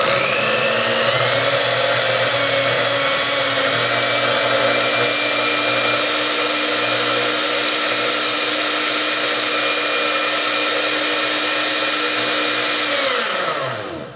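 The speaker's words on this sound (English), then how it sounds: "And then we're going to blend that up." A blender whirs at full power through kale and coconut water, a loud, steady motor roar that holds for over ten seconds before winding down at the end.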